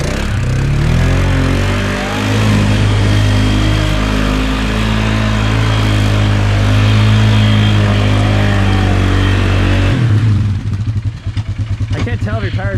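A Polaris Sportsman ATV on 28-inch mud tires labours through a steep rut, its engine loud, close and droning steadily. Near the end it drops to a lower, choppier idle, and talk is mixed in.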